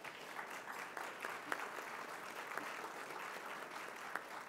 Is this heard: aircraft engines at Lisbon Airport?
no